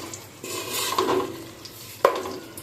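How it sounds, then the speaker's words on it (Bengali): Small diced potato pieces fry lightly in a little leftover oil, a close hiss with a spoon stirring and scraping the pan, and a sharp knock of the utensil near the end, no voices. "ওই তেলে আমি আলুটা ভেজে নেব হালকা করে"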